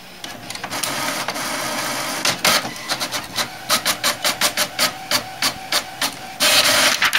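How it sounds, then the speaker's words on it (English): An HP OfficeJet printer running a test page: a steady mechanical whir, then a rapid series of evenly spaced clicking, shuttling bursts from the print head, ending in a louder sustained feed noise, close and alone with no talk. "So let's pull up the Plexi here and send a test page to it."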